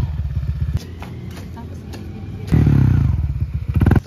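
A motorcycle engine starting up after a brake shoe repair, with clattering idle pulses, then a louder burst of revving that fades and rises again, close to the microphone.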